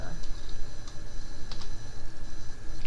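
Rapid clicking of keys on a computer keyboard during data entry, steady and close, with scattered louder keystrokes over a faint background hum.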